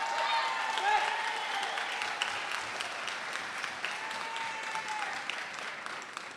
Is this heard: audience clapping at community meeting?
yes